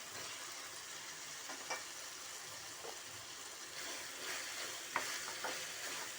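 Boneless mutton fries in a kadai with a faint continuous sizzle, broken by a few soft scrapes and clicks of stirring, heard from a little distance with no talk.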